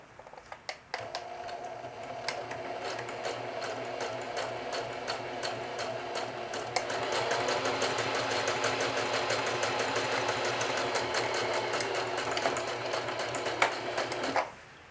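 A sewing machine runs a long steady stitching pass along the last row of a jeans watch pocket, a fast even mechanical patter that starts after a short pause and grows slightly denser midway before stopping abruptly.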